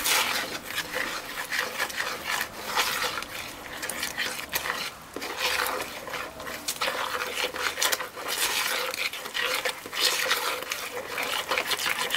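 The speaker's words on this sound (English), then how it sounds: "Stir." Banana fritter batter for Jamaican fritters being stirred in a bowl, a steady scraping and rubbing that runs continuously and fairly close, with no talk over it.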